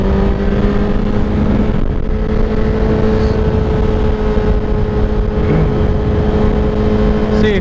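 A 2017 Honda CBR1000RR sportbike engine on a test ride, a loud steady drone holding an even pitch throughout with constant wind rush and no clear revving changes.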